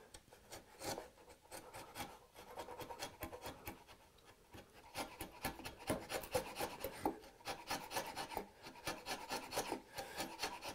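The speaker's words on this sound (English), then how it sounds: "So I got one more shaving worth to go on it." A hand plane takes repeated shavings off wood for a dovetail half lap joint, the rasping strokes close and quiet, arriving in quick rhythmic passes throughout.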